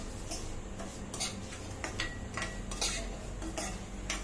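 A spoon scrapes and taps against a pan while semolina and sugar are stirred together, making a quiet series of irregular metallic clinks over a soft frying hiss.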